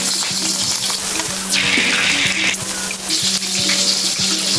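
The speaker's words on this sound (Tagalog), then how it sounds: "unahin natin yung ating bell pepper sa ating pagluluto" Bell pepper sautéing in a pan for a Filipino egg dish, a steady close sizzle with faint clinks of stirring running throughout.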